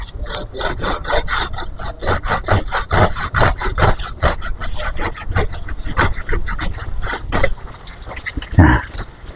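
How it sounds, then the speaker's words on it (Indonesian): A hand saw cuts through a large coffee tree branch in fast, rhythmic back-and-forth strokes, loud and close, pausing briefly near the end. "Karena ini besar, saya pakai gergaji ini. Saya potong."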